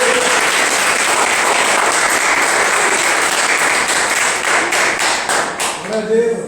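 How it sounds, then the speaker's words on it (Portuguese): Church congregation applauding during an evening communion service, a dense, steady wash of many hands clapping throughout, thinning slightly toward the end with a few voices rising under it. "Ele merece uma salva de palmas"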